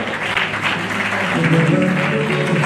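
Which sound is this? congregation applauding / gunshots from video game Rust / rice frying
congregation applauding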